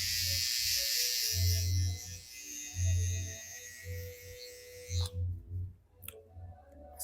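Electric hair trimmer buzzing in bursts while cutting hair during a high fade haircut, a close steady hum with pulsing strokes and a few clicks near the end.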